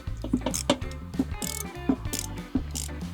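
Ratchet wrench loosening bolts on a Vespa Primavera scooter, heard as a series of sharp clicking pawl bursts in quick irregular strokes, close and fairly quiet.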